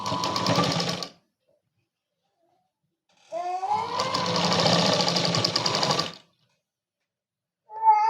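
An electric sewing machine stitching fabric for a Punjabi dress, with loud close whirring runs of rapid needle rattle, a short burst, a pause, a longer steady run, then another start.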